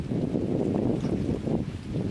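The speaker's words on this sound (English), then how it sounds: "the wind is a bit annoying" Steady wind buffets the microphone outdoors on a day of waiting for snow, a continuous low rumbling roar with gusty swells throughout and no speech.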